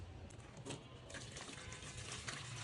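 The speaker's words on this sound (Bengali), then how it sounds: "তারপর হচ্ছে ধুয়ে নিবে" Chopped shrimp being rinsed in water at a sink, with a steady running, splashing wash lasting a few seconds, fairly close, no talk over it.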